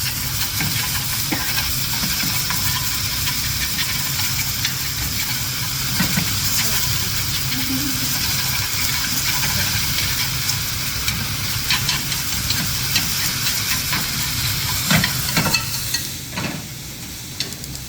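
Sliced meat fries in a pan with a continuous sizzle and occasional stirring clinks, while someone talks over the cooking.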